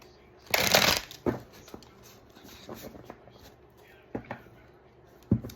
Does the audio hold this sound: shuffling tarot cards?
yes